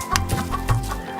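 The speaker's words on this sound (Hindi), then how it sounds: "उसके पास बहुत सारी मुर्गियां थीं, मुर्गा" Chickens and a rooster cluck close by on a farm, a steady run of short throaty clucks with no voices.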